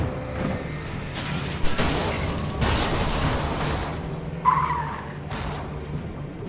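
Car tires skidding in a video game, a long harsh noisy scrape with a few thuds and swells, loud and continuous with no talking.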